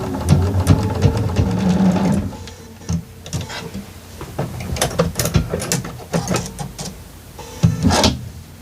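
A sewing machine stitches quilt blocks with a 1/4-inch seam, running in a fast mechanical whirring rattle. The stitching comes in bursts with pauses between them, up close and without talk.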